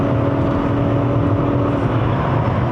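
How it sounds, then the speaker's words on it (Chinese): A 2020 Toyota Harrier XU80 hybrid drives along, and a steady electric motor whine with a faint turbo-like spooling tone sits over a loud, continuous road and engine drone heard from inside the cabin. "你会听到好像有一个电动马达声音在前面"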